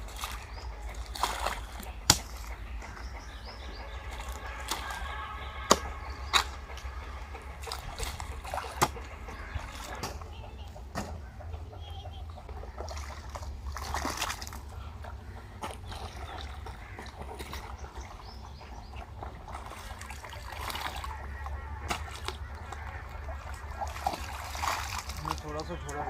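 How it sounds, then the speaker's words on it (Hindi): Irrigation water runs steadily into a furrow of a village vegetable field, a continuous splashing and trickling flow with scattered sharp splashes, while people talk over it throughout. "ये अब मैं इसके अंदर पानी छोड़ूंगा, पानी छोड़ने के बाद फिर सब्ज़ी लगाते हैं।"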